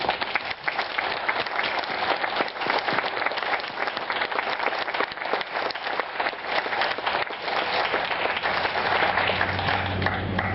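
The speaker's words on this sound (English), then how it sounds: "we should give them now, as a start-off, a great round of applause" A crowd gives sustained applause in honour of veterans at a Veterans Day tribute in Indian Wells, with dense, steady clapping that holds strong for about ten seconds and a low hum entering near the end.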